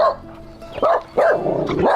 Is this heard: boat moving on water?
no